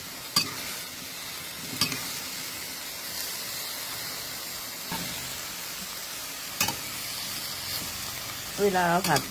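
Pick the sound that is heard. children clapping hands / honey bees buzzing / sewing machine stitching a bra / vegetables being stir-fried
vegetables being stir-fried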